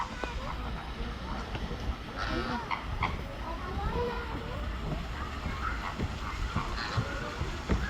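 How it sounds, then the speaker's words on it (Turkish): Ducks and other birds quack and call in scattered bursts amid busy outdoor ambience at a zoo in Bursa, with people talking nearby. "Ha şurada ördek var."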